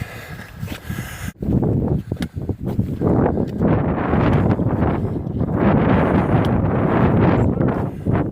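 Strong wind on a mountain section of the Appalachian Trail buffets the microphone in loud, gusty rumbling bursts that keep surging and easing throughout.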